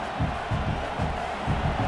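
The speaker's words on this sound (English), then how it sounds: "This crowd going to try to make life miserable for these guys" Steady stadium crowd roar in EA College Football 26, Iowa State at Oklahoma State, a dense continuous wash of voices with low rhythmic swells, like distant chanting or stomping, throughout the short stretch.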